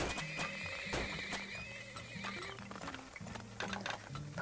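Horses whinny and neigh repeatedly in the oil-drilling video game Turmoil, layered over a steady looping tune of game music, with clip-clop hoofbeats and ticking effects throughout.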